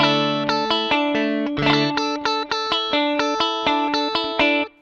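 Electric guitar with a coil-split humbucker played through a graphic EQ pedal, repeated staccato chords and notes in a steady rhythmic pattern, bright and upfront with clean sharp attacks, no talking.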